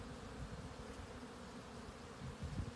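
Honeybees buzz around a horizontal hive at winter's end, a steady soft droning hum of many insects, fairly faint and continuous, with no voices.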